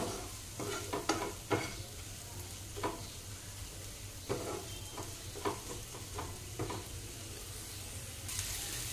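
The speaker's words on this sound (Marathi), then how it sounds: "आता मीठ टाकलेलं आहे आपण, टोमॅटो चांगला सॉफ्ट करायचा आहे." Tomatoes with salt sizzle softly in a pan while a spoon stirs them, producing scattered scraping taps over a steady low frying hiss; for a cashew masala gravy, no talking.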